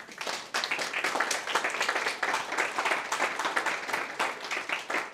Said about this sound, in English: I think you should all give each other a round of applause for the work you're doing